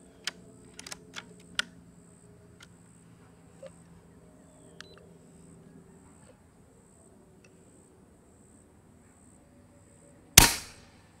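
A Hatsan AirMax .25 PCP air rifle fires a single suppressed shot outdoors near a farm, a sharp short crack late in an otherwise quiet stretch broken only by faint scattered clicks.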